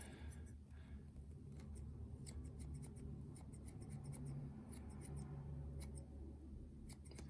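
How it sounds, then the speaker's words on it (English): Scissors trim fly-tying material in the round while shaping a CK baitfish fly, giving faint, light snips repeated irregularly over a steady low background hum. "And just start cutting in the round"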